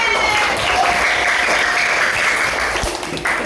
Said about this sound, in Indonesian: Tepuk tangan untuk kalian semua.